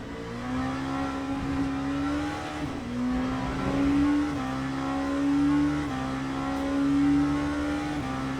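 Race cars in Le Mans Ultimate run around the Bahrain circuit, one engine holding a steady high drone with small pitch steps as it shifts, loud and close with faint surrounding car noise and no talking.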